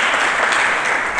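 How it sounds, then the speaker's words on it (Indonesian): A church congregation claps during a sermon, a brief burst of loud, dense applause filling the space without any speech over it. "Berikan tepuk tangan dulu bagi Yesus Kristus."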